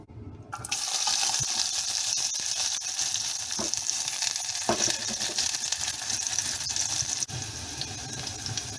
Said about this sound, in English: Once the oil is sizzling like this, we'll add our onions.